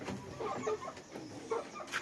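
Village chickens cluck in short scattered bursts at moderate distance, several birds overlapping against a busy outdoor backdrop.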